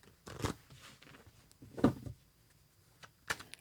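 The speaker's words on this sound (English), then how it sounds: "Let's do one more shuffle." Three short bursts of tarot cards being shuffled, soft and close, separated by near silence.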